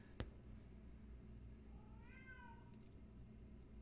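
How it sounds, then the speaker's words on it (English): A house cat gives one faint, drawn-out meow partway through, distant beneath a steady low background hum, with a soft click near the start and no talking. "Shut up, cat."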